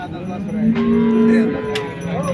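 A cow moos loudly close by at the Modnimb cattle market, a long drawn-out low bellow followed by a shorter call, with no voices around.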